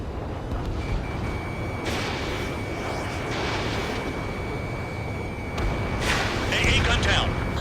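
Explosions destroying an AA gun in Ace Combat 7, a continuous heavy rumble of blasts under a thin steady lock-on tone, with a louder burst near the end and a radio voice talking over it.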